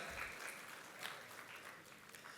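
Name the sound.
audience applause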